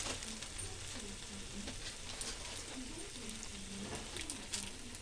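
Boiled pasta being stirred into fried onions in a home kitchen pan, giving a steady, moderate sizzle with soft scraping strokes throughout, without any voices.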